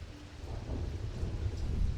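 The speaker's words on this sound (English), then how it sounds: "Ooh, thunder." Low rumbling thunder rolls beneath steady rain and patter in the video game Strange Antiquities, building slightly in loudness over two seconds with no voices.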